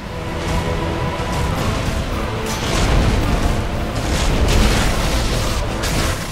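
The black dragon Kalameet in Dark Souls breathes fire, a loud, dense roaring rush with booming low rumble that swells and surges throughout.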